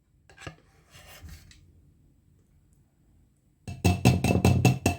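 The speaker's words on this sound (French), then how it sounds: "J'essaie de racler ma casserole." Metal spoon scraping a saucepan while making apple jelly, a rapid run of loud rasping strokes, close up, after a few quieter scrapes and clinks.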